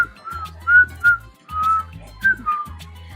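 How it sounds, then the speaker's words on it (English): A person whistles a short tune alone, a few clear bright notes in quick phrases with brief pauses between them, close and fairly loud. "I was whistling like this."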